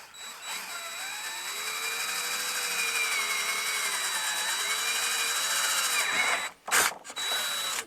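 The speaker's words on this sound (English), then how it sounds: "it's plastic, and the drill bit's going to go right through it real quick" A power drill whines steadily as it bores through plastic on a Sprinter van, pitch wavering under load, then briefly stops and starts again near the end.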